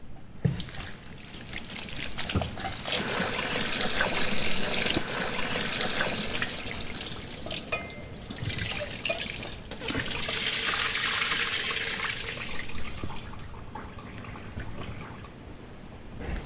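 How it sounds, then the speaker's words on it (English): Fruit rinsed under a running kitchen tap, a steady loud stream of water splashing continuously, with small shifts as the fruit moves under the flow. "I'm going to give them a quick little wash, just to get any sort of dust and stuff off them."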